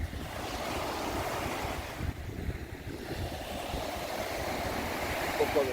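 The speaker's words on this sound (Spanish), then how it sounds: "Hoy ya menos oleaje." Steady surf on Playa Mamitas along the Quinta Avenida, a continuous wash of breaking waves with wind buffeting the microphone, moderately loud and without pause.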